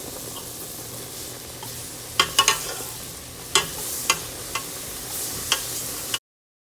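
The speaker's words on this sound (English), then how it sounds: "And you're going to keep stirring and pouring." Caramel sauce being stirred and poured in a pan, a soft steady sizzle broken by scattered clicks and taps of the utensil against the pan, fairly quiet with no talking.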